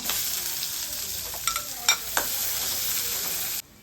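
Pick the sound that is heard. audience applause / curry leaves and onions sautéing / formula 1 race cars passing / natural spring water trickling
curry leaves and onions sautéing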